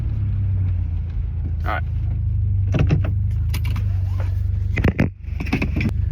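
Suspension noise from a car being driven with the rear seats folded down: a steady low road rumble broken by intermittent rattles and clunks, with a brief spoken word over it.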